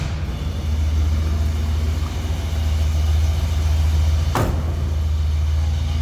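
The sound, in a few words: 1970 Pontiac Catalina 400 engine rumble through true dual exhaust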